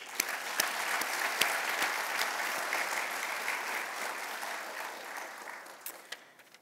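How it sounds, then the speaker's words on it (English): Sustained audience applause at a Medal of Valor awards ceremony, a dense steady wash of many hands clapping at moderate distance, with a few sharper individual claps near the end. "Another big round of applause."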